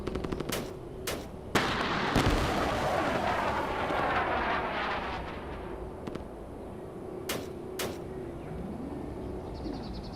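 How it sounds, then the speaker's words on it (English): Handheld cannon in the Space Engineers RTS scenario firing repeatedly: a few sharp, loud blasts spaced several seconds apart, each with a booming tail over a steady battle rumble, with more distant gunfire behind. "It's just a handheld cannon, like a basic one."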